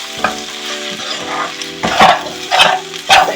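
Onions and chilli powder sauté in a pan for beef curry, a soft continuous sizzle broken by several loud scraping stirs of a spoon against the pan, close up and without talk.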